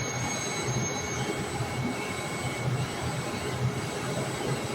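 A 2011 Makino PS95 CNC vertical machining center drives its Y-axis in rapid traverse, a steady broadband mechanical whir with a faint high whine held at even loudness throughout, with no voices.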